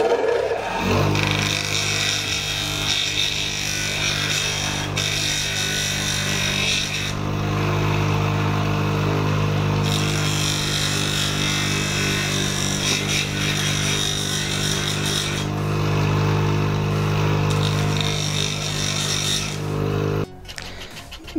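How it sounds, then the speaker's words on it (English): A handheld power tool grinds a rubber tire so a globe will fit on it, a loud steady whirring drone that runs continuously and close, with brief dips in intensity. "now I'm going to grind this portion of this tire"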